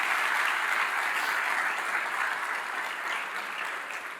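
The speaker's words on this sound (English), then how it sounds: "Let's give them a round of applause as well." Audience at a city mayor's budget address gives a sustained round of applause, dense and even, filling the room at steady loudness and tapering slightly toward the end, with no talk over it.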